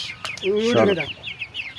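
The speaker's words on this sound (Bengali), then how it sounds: "কবুতরের মহাজন কবুতরের ডাক দিয়ে এইভাবে আদার খাওয়ায়" Several pigeons gather for feeding while a keeper calls them in with vocal calls. Short clucking, cooing bursts repeat close by over a low outdoor background.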